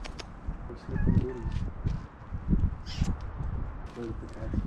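Cats meow a few short times at close range while people talk casually over and around the calls.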